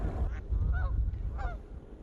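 Geese honking in a Seattle park, a few distinct nasal honks spaced apart against low outdoor rumble, fairly close and clear.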